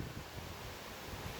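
Wind buffets the microphone with a steady, moderately loud broadband rumble and roar, no other sounds heard.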